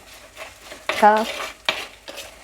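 Onions sautéing in a pan for sardine curry give a couple of loud utensil scrapes and clinks against the pan, with a brief sizzle underneath.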